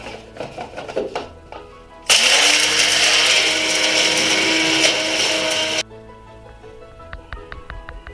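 Electric mixer grinder whirring loudly as it grinds dry-roasted spices into a coarse powder, starting abruptly, holding a steady high roar for about four seconds and cutting off, with kitchen clatter before and after.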